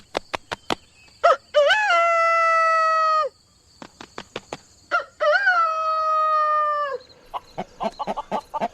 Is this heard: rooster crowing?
yes